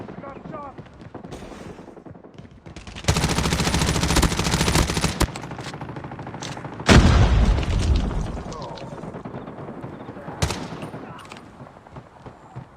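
Turret gunfire and explosions in Call of Duty: loud sustained bursts of automatic fire and heavy booms, with game voice callouts heard between the blasts.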